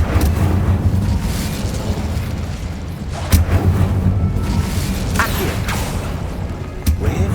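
Incendio fire spell cast in Hogwarts Legacy inside a tomb, a sharp whooshing burst over a constant rumbling game ambience, with further brief bursts and mechanical creaks around it.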